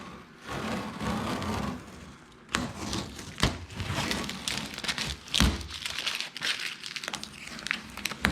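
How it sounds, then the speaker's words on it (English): Masking tape being peeled off a plastidipped car badge, close up, giving a continuous crinkling, crackling rustle with sharper snaps and tearing bursts, no talking. "get rid of all the tape."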